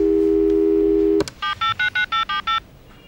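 A telephone is being dialed: a steady tone plays for about a second and is cut off, then seven short, evenly spaced keypad beeps sound in quick succession.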